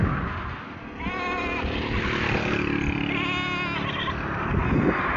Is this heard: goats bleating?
yes